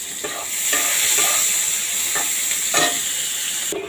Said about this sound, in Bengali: এখন আমি পেঁয়াজটা তেলে ভাজব